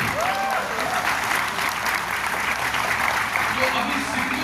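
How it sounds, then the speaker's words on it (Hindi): Steady applause from a seminar audience at a special speech in Mumbai, dense and continuous throughout, with a voice faintly audible over the clapping. "तालियां तो बजाइए।"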